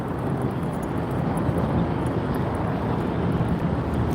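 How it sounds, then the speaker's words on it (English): A steady, dense rumble of a helicopter passing overhead fills the scene, continuous and fairly loud, amid New York City street ambience near a pier. "I hear a helicopter above my head."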